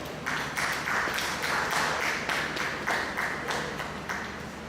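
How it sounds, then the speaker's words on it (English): A seminar audience claps for OAU, producing a dense run of hand claps at a loud, steady level. Several rhythmic surges pulse through the applause, which continues without speech. "give a very big round of applause for OAU for taking the lead to embrace this technology"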